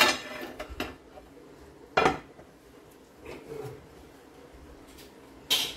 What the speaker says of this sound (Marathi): हा टोप उतरवून तवा ठेवूया.